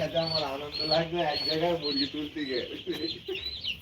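Chickens at a poultry farm cluck and squawk in overlapping rhythmic bursts, close and fairly loud, with someone talking over the flock.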